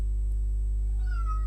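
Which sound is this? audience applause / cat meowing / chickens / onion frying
cat meowing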